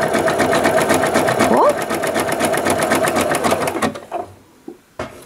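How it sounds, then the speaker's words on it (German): A domestic sewing machine runs a steady, rapid zigzag stitch close up on doll trousers, its needle ticking evenly for about four seconds before stopping, followed by a couple of small clicks, with someone talking over it. "Zickzackstich heißt immer, dass die Nadel so hin und her geht."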